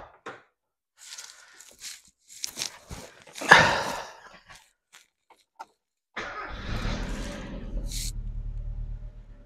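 Mazda Miata being started: footsteps and rustling, a brief clatter, then the engine cranks and catches, settling into a steady idle rumble to the end.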